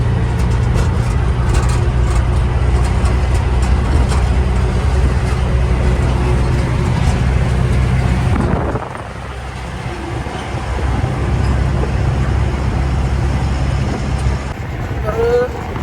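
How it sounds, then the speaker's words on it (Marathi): Steady engine drone and road rumble inside a moving auto rickshaw, loud and continuous, with traffic noise around and voices talking at times. "हॉस्पिटलमधून सध्या आपण आश्रमला चाललेलो आहोत, रिक्षामध्ये चाललोय."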